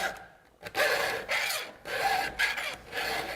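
A hand file rasps across the teeth of a chainsaw chain in steady repeated strokes, each a gritty, bright scraping burst with brief pauses between, close and fairly loud, no talk.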